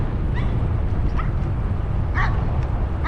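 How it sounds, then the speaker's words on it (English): Big dogs on a gravel road in Montague County, Texas, giving a few short yips and barks at moderate distance, scattered over steady low wind and tyre rumble from a bicycle rolling downhill. "uh-oh, we got some dogs."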